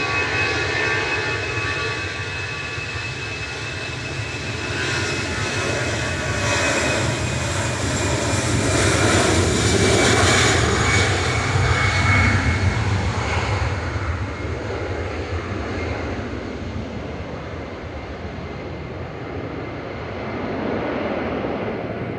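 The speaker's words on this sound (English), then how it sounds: "Lufthansa departing to Munich." A Lufthansa jet departing Manchester for Munich roars steadily, swelling to a loud broadband peak midway and then slowly fading as it climbs away, with no talk over it.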